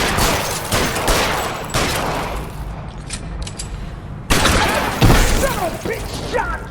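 Gunfire in L.A. Noire, dense fusillades of loud shots bursting in long volleys with brief lulls between them, close and heavy, mixed with game ambience.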